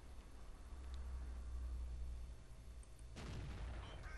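A tank cannon fires in World of Tanks, Panzer IV era armor, with a low rumbling bed of engine and ambience before one sharp broadband blast near the end that rolls off into a lingering boom.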